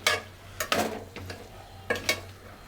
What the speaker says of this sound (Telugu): బర్బటీలను కూడా కలిపేసుకుందాం